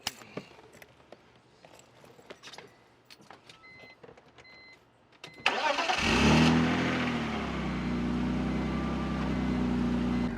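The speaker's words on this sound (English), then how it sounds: "I'm so glad I cut my muffler off. It just sounds so much more aggressive." After some clicks and fumbling, a BMW E46's engine cranks and fires into a loud, raw roar with the muffler cut off, settling into a rumbling idle.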